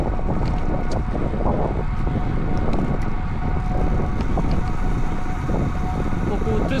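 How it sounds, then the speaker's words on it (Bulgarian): Strong, steady wind roars across the microphone during a road bike ride, a constant loud rushing buffet with low rumble that never lets up. "Невероятно много вятър."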